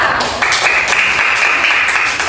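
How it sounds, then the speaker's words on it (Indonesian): Schoolchildren in a classroom applaud their classmates after a group presentation, loud, close and busy clapping that runs steadily throughout. "tepuk tangan untuk temannya"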